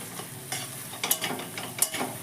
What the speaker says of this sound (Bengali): আর একটু লঙ্কার গুঁড়ো দিয়ে আমি এটাকে সুন্দরভাবে এখন লাল লাল করে কষে নেব।